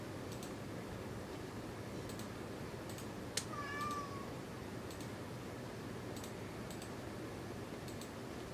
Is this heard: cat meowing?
yes